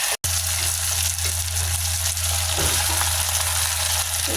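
Onion sautéing in a hot pan with garlic and ginger for chicken tinola, a loud continuous frying hiss over a low steady hum, with one brief dropout near the start and no speech.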